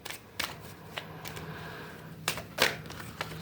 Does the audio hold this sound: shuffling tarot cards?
yes